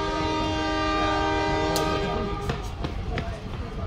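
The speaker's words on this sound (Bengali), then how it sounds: "ট্রেনটা ছাড়লো 11:16" A DEMU train departs Siliguri Junction with a steady, loud engine drone and mechanical hum, joined by a few sharp clanks and clicks of moving wagons as it gets under way.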